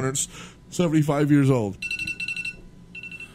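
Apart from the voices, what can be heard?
alarm ringing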